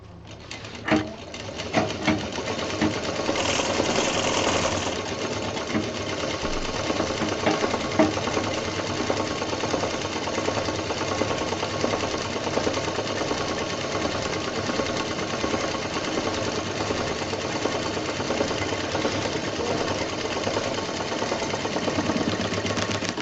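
A sewing machine stitches fabric for a homemade round bag, a steady fast mechanical whir and chatter running continuously for over twenty seconds after a brief start.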